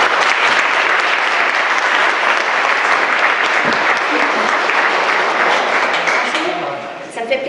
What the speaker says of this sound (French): Alors, je vous invite à l'applaudir.